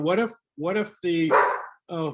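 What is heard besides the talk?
dog barking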